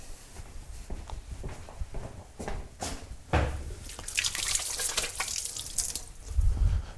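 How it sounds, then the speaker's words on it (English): Hands being washed under a running kitchen tap while cooking a roast chicken, water splashing and dripping unevenly with brief clatters, close by and without talk. "So let me wash my hands again."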